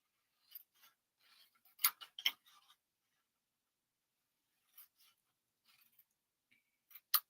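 Scissors snip through cardstock tabs in a quiet room, making a scattered series of faint, crisp cutting clicks in two short clusters with pauses between.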